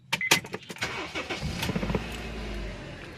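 A car engine is started: a few sharp clicks, a short crank, then the motor catches and settles into a low, steady idle, nearby and alone.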